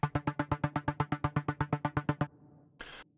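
A run of about sixteen evenly spaced synth notes, each struck at the same loudness in a quick steady rhythm, followed by a short noisy burst.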